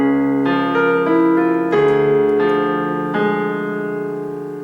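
Opening two measures of a song from Over the Garden Wall played on piano with both hands, a melody of struck notes over sustained low tones, moderately paced and ringing together, close and solo without any voice.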